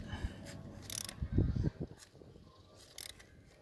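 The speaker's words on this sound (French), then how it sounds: "j'ai mis 2 écrous de 15 identiques pour faire écrou contre écrou, tout simplement. Là, je les bloque entre eux." Two identical 15 mm nuts being locked against each other on a threaded rod with a wrench while dismantling a Seat Ibiza engine, a few faint metallic clicks and ratcheting scrapes with quiet gaps between.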